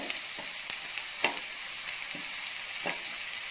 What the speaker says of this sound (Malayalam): ഇനി വഴറ്റാനായിട്ട് സവാള പച്ചമുളക്